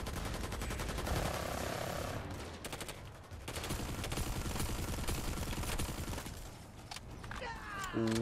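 Rapid, sustained gunfire in the video game Planetside 2, with fast rattling automatic bursts running steadily under a busy battle mix, plus a few sharper tonal effects near the end.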